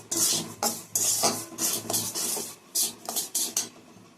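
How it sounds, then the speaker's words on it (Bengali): Semolina fries lightly in ghee in a wok while a utensil stirs it, giving a series of close, rasping scrapes in short uneven bursts with pauses between them and no voices. "এবার সুজিটাকে একটু ভেজে নেবো হালকা"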